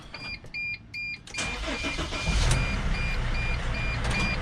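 A Mercedes T1N Sprinter van fitted with a new 150A alternator starts up. Several evenly spaced electronic chimes come first, then the engine cranks and catches into a steady, close idle.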